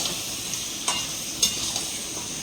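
Chicken lightly frying in spices, a soft, even sizzle close by with a couple of faint stirring scrapes.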